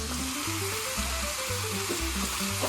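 Pasta primavera vegetables with small cherry tomatoes are mixed in a hot pan, a continuous even sizzle and hiss running under soft background music, with no voices.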